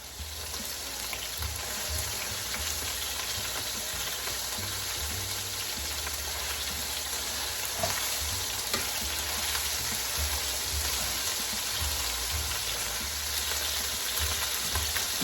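Steak browning in a hot pan over a high flame for a steak pizzaiola, giving a steady, close, continuous sizzle and frying crackle that holds level throughout with no voices.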